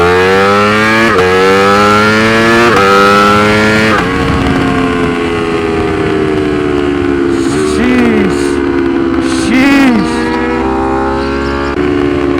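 Ducati Streetfighter V4 and BMW S1000 motorcycles doing a first-gear acceleration run on a straight road, loud engine wails rising in pitch with rapid upshifts and a second rising whine passing by, no talking.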